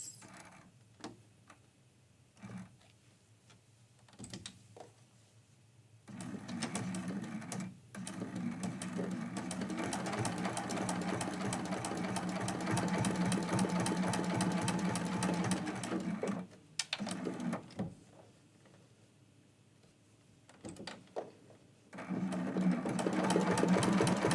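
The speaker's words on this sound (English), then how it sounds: "I'm going to do a couple little tiny stitches" A sewing machine runs in short bursts at first, then in longer steady runs as it stitches tiny stitches across a Christmas quilt-as-you-go block. The rapid, even needle chatter is close and loud, with brief pauses between runs and no talking.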